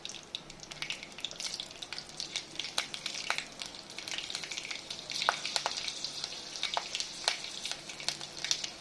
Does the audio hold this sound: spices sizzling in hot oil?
yes